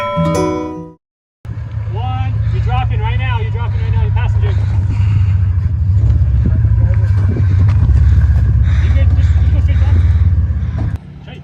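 Off-road vehicle engine held on throttle on the Alta Lakes trail near Telluride, Colorado, with a steady loud drone after a brief cut, while people talk over it.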